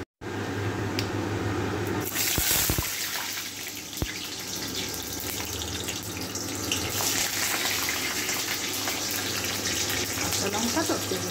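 Nigella seeds and green chillies sizzling in hot oil for a ridge gourd and mung dal dish, a steady broadband crackle and hiss throughout, close and fairly loud with a few sharp pops.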